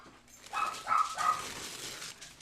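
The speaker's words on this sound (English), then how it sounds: "so you will hear dogs once in a while." Several house dogs bark and yip faintly from another room, three short high barks in quick succession, while a woman works on a Christmas tree craft indoors.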